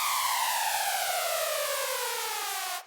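An electronic riser effect from a colour bass track: a bright, layered synth tone sweeping steadily upward for about three seconds, loud and alone, cutting off abruptly at the end.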